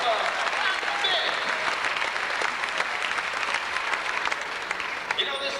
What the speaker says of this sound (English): How about a big round of applause for our volunteer, Nicola and Mick?